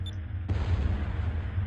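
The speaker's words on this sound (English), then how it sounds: "There was an explosion at the port bow!" A sudden loud explosion at a ship's port bow in the video game Skies of Arcadia, a heavy boom bursting in after a short quiet moment and rumbling on.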